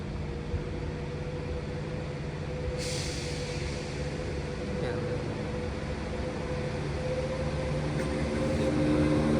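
A train approaching, heard as a continuous low rumble with faint humming tones that grows gradually louder over several seconds, steady and fairly distant, with background noise throughout.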